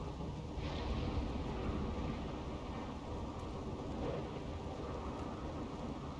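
A nighttime thunderstorm in the colony-building game RimWorld: steady heavy rain hisses and patters throughout, with low thunder rumbling beneath it.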